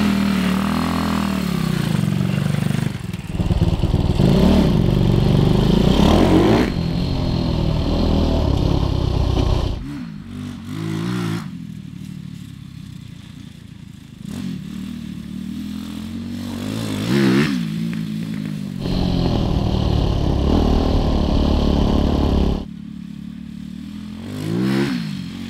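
Engine of a 190cc Honda Trail 70 restomod motorcycle being ridden, rising and falling in revs over repeated throttle pulls, close and loud with a few quieter idling dips and no talk.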